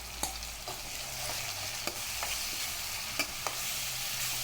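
Ginger garlic paste sautés with softened onions and curry leaves in a pan for paneer butter masala, a continuous hissing sizzle punctuated by several sharp spoon taps and scraping stirs, with no talking.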